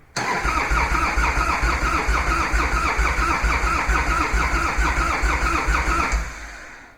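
A Harley-Davidson motorcycle engine, cranked with extra fuel on a cold day, catches after a brief pause and runs as a loud, close, uneven throbbing idle for several seconds before abruptly cutting away.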